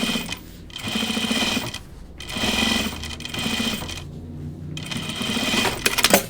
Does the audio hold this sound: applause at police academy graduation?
no